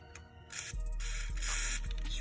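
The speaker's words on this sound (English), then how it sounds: "Spray some right up inside of there." Short hissing bursts of WD-40 aerosol spray, close by, with a few clicks and knocks between them.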